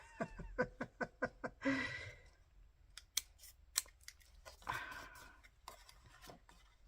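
Scissors snip through paper craft flaps in a run of six quick, evenly spaced cuts, followed by a few sharper isolated snips and paper rustling, close and fairly quiet, with no one talking.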